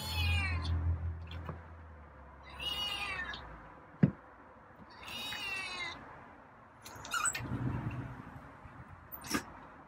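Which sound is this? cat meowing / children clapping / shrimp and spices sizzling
cat meowing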